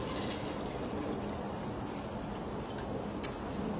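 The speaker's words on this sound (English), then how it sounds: "you're going to take and fill your cup with water up to below the hole." Water poured steadily into a cup for a children's bird migration craft, a continuous close hiss of liquid lasting the whole moment with no talking over it.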